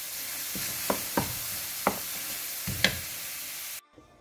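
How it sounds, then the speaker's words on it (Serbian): Zucchini and peppers frying gently in a pan for a sandwich, a soft continuous sizzle broken by several sharp clicks of stirring before it stops abruptly. "Evo ovako, znači samo lagano pržimo."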